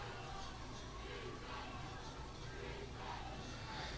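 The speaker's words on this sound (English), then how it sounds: "the away crowd is getting into the game, and it is loud and ruckus on that side of the field" Away-side crowd at a high school football game between the Muleshoe Mules and Lamesa Golden Tornadoes, a steady, dense roar of distant cheering and voices across the field, continuous throughout with no single standout shout.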